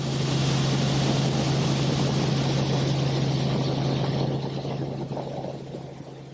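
An aircraft flies over Cape Town at about 1,000 feet and 100 knots, its rotor and engine drone loud and constant from inside the cabin, easing off slightly toward the end.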